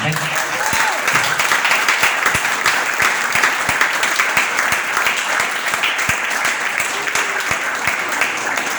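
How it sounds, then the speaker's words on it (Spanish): Church congregation applauding during a Spanish-language sermon, a dense, steady wash of clapping with sharp individual claps, voices faintly mixed in throughout. "Vamos a darle un fuerte aplauso al Señor."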